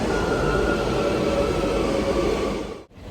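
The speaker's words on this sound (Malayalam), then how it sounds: "നമ്മളിപ്പോൾ റോക്കിനിലാണ്, സീ ലെവലിന് താഴെയുള്ള മെട്രോ സ്റ്റേഷനാണ്." A metro train runs through the underground Rokin station below sea level with a steady, loud rumbling drone that cuts off abruptly near the end.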